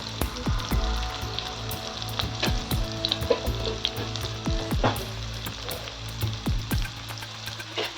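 Onions browning in a hot pan with a pinch of turmeric, frying steadily with a bright close sizzle and repeated scraping knocks of a spatula against the metal, no talking.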